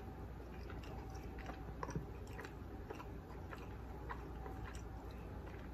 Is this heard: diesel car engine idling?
no